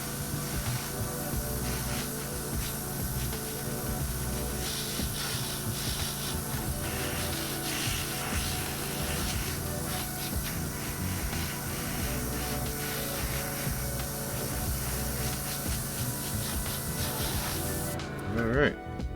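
An airbrush or spray can hisses in a steady, continuous stream while paint is applied to a resin miniature figure, close and even throughout before stopping abruptly near the end.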